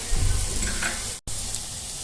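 Roasted peanuts go into a hot pan of vegetarian pasta and sizzle steadily and close, with a faint stirring scrape and a brief dropout in the middle, without any talk.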